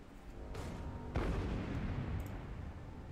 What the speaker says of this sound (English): Let's bombard him here.